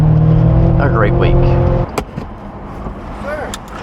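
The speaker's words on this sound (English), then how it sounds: "car sounds amazing" Ferrari 348 with a modified exhaust, its engine droning loud and close for about two seconds before cutting off, leaving idle rumble and some speech.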